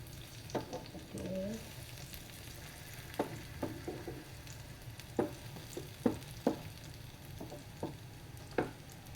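Ripe plantain pieces (ethapazham) frying in ghee give a low steady sizzle, with scattered clicks and scrapes of a utensil turning them in the pan, quiet and close, without voices.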